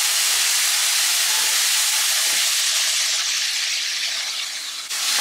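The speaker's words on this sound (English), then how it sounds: "And I'm gonna saute this for about 2 minutes." Garlic sautéing in a pan for curry shrimp gives a loud, steady sizzling hiss close up, continuous throughout with no voices.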